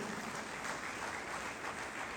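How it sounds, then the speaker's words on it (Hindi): An audience claps steadily and loudly at a motivational talk about leaving a job, with a dense, continuous patter of many hands that fills the whole moment without a break. "जोरदार तालियां होनी चाहिए।"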